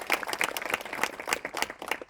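An audience applauds a doctor after his talk, steady clapping from many hands filling the whole stretch at moderate loudness, with no talk over it.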